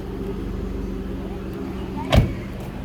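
A car engine runs steadily at idle, a low continuous drone with a brief thump near the end as a door or panel shifts; voices talk faintly under it.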